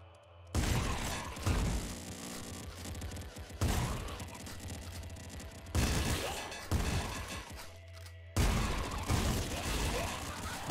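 Shotgun blasts in the video game Nuclear Throne come in four loud bursts, each a sharp crash trailing into a crackling decay, separated by brief gaps.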